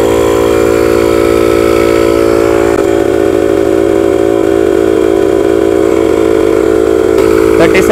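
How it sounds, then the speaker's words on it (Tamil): A portable car tyre inflator air compressor runs with a loud, steady motor drone and a strong buzzing hum, unbroken throughout, with a faint rattle near the end. "ஸ்டார்ட் பண்ணியாச்சு, கம்ப்ரஸர் ஆன் ஆகிருக்கு."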